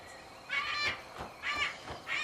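A bird in Dragon Age: Inquisition gives three repeated cawing calls at an even rhythm, fairly close, with no speech.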